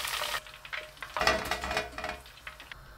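Pork belly pieces fry over medium-high heat in a pan, a soft crackling sizzle with brief louder spatters and clinks of utensils against the pan, close and fairly quiet.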